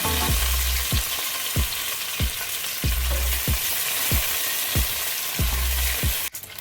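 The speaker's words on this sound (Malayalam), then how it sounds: "ആ സെയിം പാനിൽ തന്നെ കുറച്ച് വെളിച്ചെണ്ണ ഒഴിച്ച് കുറച്ചധികം കറിവേപ്പില ഒന്ന് മൂപ്പിക്കാം." Curry leaves frying in coconut oil in a pan give a loud, continuous hiss and sizzle up close, punctuated by regular knocks of a spatula against the pan roughly every half second, with no talking.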